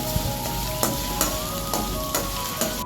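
Green chilli, ginger and garlic paste frying in a pan makes a steady hissing sizzle, with a utensil scraping and tapping the pan at a regular rhythm about twice a second, close and without talk.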